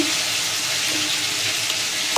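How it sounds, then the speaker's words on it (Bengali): Tengra fish fry in hot oil in a home kitchen, a continuous close, loud sizzle with a steady bubbling hiss and a light clatter at the very end, no voices. "এই মাছগুলো সব ভেজে একটা একবার এই সব মাছগুলো ভেজে তুলে রাখবো"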